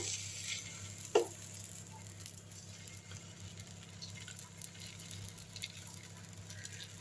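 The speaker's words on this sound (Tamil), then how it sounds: "இப்போ தோசை ஊற்றிடுவோம் அடை தோசை ஊற்றிடுவோம்" Adai dosa batter made from mixed grains and lentils meets a hot pan, giving a steady soft sizzle through the stretch, with a brief sharper crackle near the start as the batter lands and spreads.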